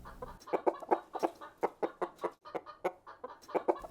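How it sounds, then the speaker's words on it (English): Farm chickens cluck in a steady run of short, sharp bursts for several seconds, close and moderately loud with no talking. "chicken"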